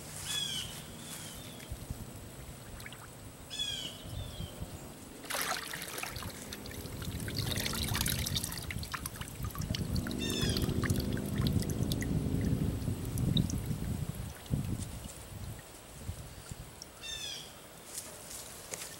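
Water trickles and sloshes as a block of buoyancy foam is pushed under the surface, a steady moderate wash rising mid-clip, with birds chirping outdoors in the background.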